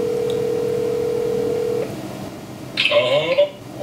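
A phone call rings out: a steady electronic tone holds for nearly two seconds, then stops, and a voice comes through the line with some background noise.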